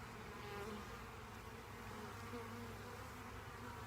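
Honeybees buzz at a nucleus colony hive, a soft, continuous droning hum from many insects, faint and steady with no voices.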